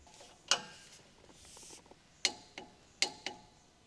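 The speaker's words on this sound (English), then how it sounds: "Using the large 18mm long socket with the large torque wrench, torque the sway bar in-link retaining nut" Sharp metallic clicks from a large torque wrench with a long 18mm socket tightening the sway bar link nut on a 2013 Dodge Ram 1500 front suspension, several separate clicks spaced unevenly, fairly faint.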